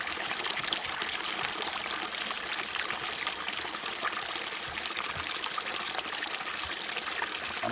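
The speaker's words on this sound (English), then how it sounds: "it's like a tiny little stream and it's just all moss the whole way up" A tiny moss-lined stream trickles steadily in a rainy outdoor setting, a continuous close bright babble of running water with no voices.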